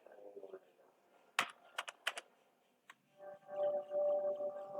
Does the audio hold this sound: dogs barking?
no